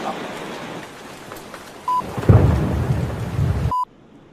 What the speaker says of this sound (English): The rain is coming.